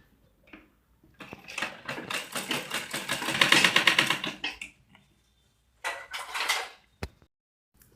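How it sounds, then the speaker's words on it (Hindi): A sewing machine stitches a strip of dress fabric in a fast, whirring run of needle strokes lasting several seconds, then stops and gives a second short burst, with clicks in between and no speech. "इस तरह से मैंने सिलाई लगा दी है"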